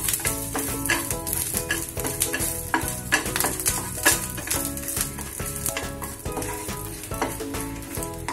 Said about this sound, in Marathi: त्याच तेलात आपण मिरच्या आणि कढीपत्ता फ्राय करून घेऊया